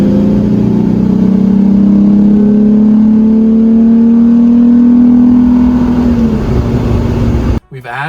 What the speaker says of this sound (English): We've added some cool intake noises.